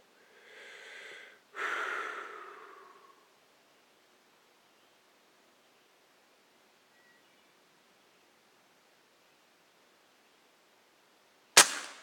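A Crosman 2240 carbine air gun fires once at a pop can, a single sharp crack near the end after a long quiet stretch, preceded by soft breathy rustling noises early on.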